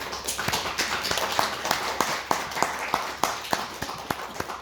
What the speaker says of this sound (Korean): 자, 박수로 환영해 주시기 바랍니다